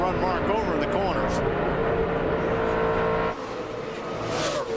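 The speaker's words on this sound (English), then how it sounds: "you can hear Tony get out of the gas" NASCAR race car at the 2004 UAW GM Quality 500 lifting off the throttle in a corner, a loud engine roar that drops away near the end amid other cars, with a commentator talking over it.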